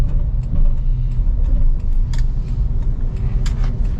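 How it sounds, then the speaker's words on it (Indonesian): A car engine in a driving lesson, pulling away in second gear after the clutch is released, gives a steady low rumble that holds close and constant throughout, with no one speaking. "lepas kopling, tambah gas. Ya, masuk gigi 2."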